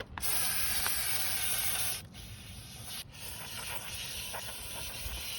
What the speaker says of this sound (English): So you want to clean that up as much as you can with some brake clean